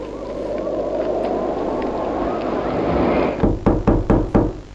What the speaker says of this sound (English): It's that damn knock.